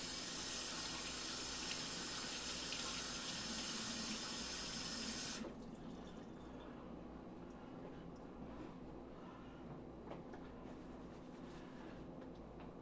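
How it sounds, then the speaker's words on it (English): Tap water runs steadily while hands are washed at a sink, a loud broadband rush that drops to a quieter, thinner flow partway through with small splashes. "Wash my hands off."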